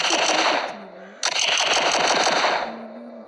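Rapid automatic gunfire in the zombie shooter The Walking Zombie 2 rattles in two loud bursts split by a short gap, and someone speaks briefly between the volleys.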